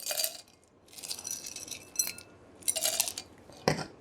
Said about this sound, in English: You're gonna pull out a glass, put some ice